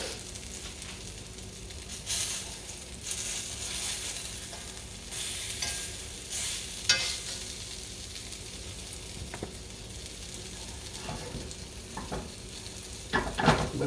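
Potato patties fry in bacon grease in a pan, giving a steady close sizzle throughout, with occasional scraping and stirring clatter from a utensil moving them around; no one speaks.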